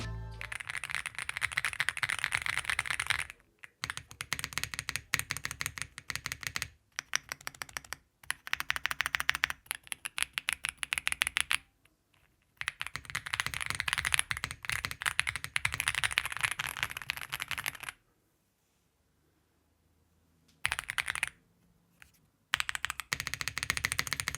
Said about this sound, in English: listen to the noise while I am typing